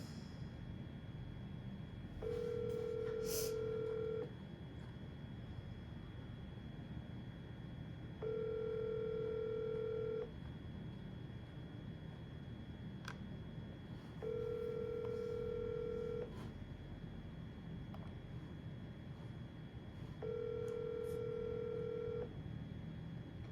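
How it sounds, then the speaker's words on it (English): Telephone signalling tones on a call line, four separate steady beeps each lasting about two seconds, evenly spaced several seconds apart over a faint hiss, with no voices. "Telephone number 407. Double dial."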